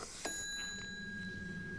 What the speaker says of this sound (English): I was just playing with the bell.